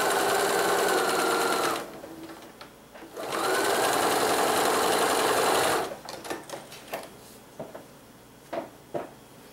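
A sewing machine runs in two sustained bursts while stitching a quarter-inch quilt seam, steady whirring stitches that stop abruptly, followed by faint clicks and handling sounds.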